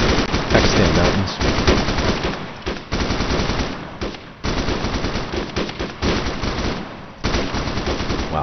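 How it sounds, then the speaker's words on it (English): Rapid automatic gunfire from suppressive fire in the ARMA 3 video game, set in Pakistan mountains, loud bursts of machine-gun shots with brief gaps between them. "that's a great suppressive fire right there"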